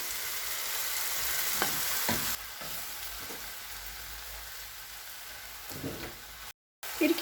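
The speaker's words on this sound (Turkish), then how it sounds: "Sotelenen malzemelerimin üzerine patlıcanlarımı ilave ediyorum." Eggplants fry in a pan with sautéed ingredients and spices, making a steady close sizzle with occasional stirring scrapes and soft knocks. It briefly cuts out near the end.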